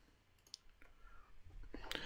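A single mouse click on a link on a computer, heard as a brief, sharp tick close to the mic in a quiet room, followed by a few faint handling noises.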